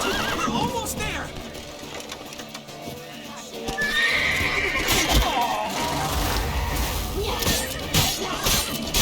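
Horses neighing and hooves clattering in the fantasy video game The Witcher 3: Wild Hunt, set amid a chaotic city escape with crashes and shouting voices over a continuous layer of galloping and whinnies.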